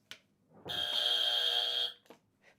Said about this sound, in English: I think I buzzed first.